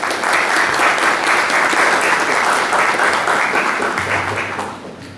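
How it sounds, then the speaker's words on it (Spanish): A room full of people claps steadily and loudly for several seconds, the applause fading slightly toward the end. "Salva de palmas."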